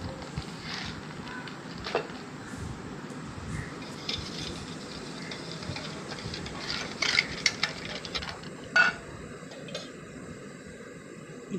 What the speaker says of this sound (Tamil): அது கூட கொஞ்சம் சர்க்கரை போட்டு நல்லா மிக்ஸ் பண்ணிக்கோங்க. முட்டையும் சர்க்கரையும் நல்லா கரையணும்.